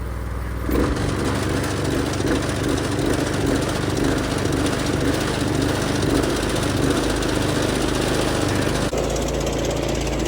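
The engine of a firewood processor catches and then runs loud and close, a steady rough drone that clears the conveyor. Its tone shifts slightly near the end.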